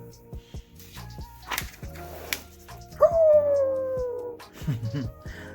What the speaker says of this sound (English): The colonel lumbered over to the door and howled into the night